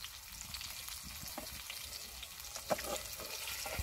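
Restaurant-style chicken chap fries in a pan with a faint, continuous sizzle and a few light stirring knocks. The sound is quiet and there is no talking.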